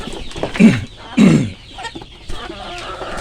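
Three-month-old chickens clucking nearby in a few short bursts, with softer fowl murmurs between them and no talking.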